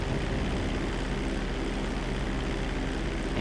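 A jet airliner roars steadily at full thrust during its takeoff run in GTA V, a dense, continuous engine rumble and whine that stays loud and even throughout.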